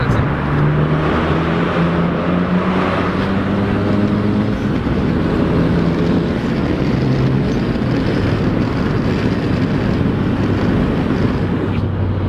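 Renault Megane RS accelerating on the road, heard from inside as a loud, continuous engine roar with rising tonal harmonics and heavy wind rumble, no talking over it.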